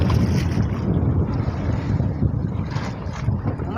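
Wind at sea aboard a fishing boat, a constant heavy roar and buffeting against the microphone with low rumbling gusts and the wash of water, continuous and close throughout.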